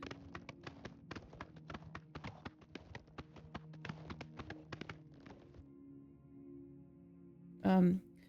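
Horse hooves clip-clop steadily in the video game Oblivion Remastered, a regular run of light knocks that slows and stops, with a short burst of louder sound at the end.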